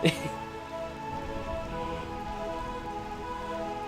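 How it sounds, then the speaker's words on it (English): Steady rainfall in the game Final Fantasy 9 on PlayStation, a continuous even hiss that stays constant throughout, with speech mixed in over it. "I mean, it's already raining."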